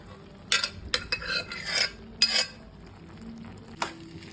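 Cooked tapioca going into a pot of coconut milk stew, a Kerala-style kappa stew, heard as several close clinks and scrapes of a spoon against the pot over a soft background bubble.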